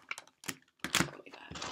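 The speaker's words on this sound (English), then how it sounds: "One more shuffle." A deck of tarot cards shuffled by hand during a reading, giving bursts of dry riffling clicks and flutters in quick uneven clusters, close and fairly quiet, with brief pauses between bursts.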